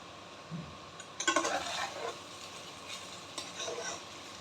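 Cooked rice is stirred into chicken fried rice in a pan, giving a brief scraping, sizzling burst of spatula strokes followed by quieter intermittent stirring.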